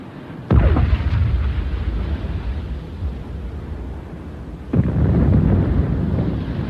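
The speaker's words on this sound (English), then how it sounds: "Mr. Malin, that's enough rounds of incendiary." Two heavy booming blasts from a U-boat deck gun firing incendiary shells at a ship in a wartime audio drama, each a sharp loud report followed by a long rumbling roar, spaced about four seconds apart.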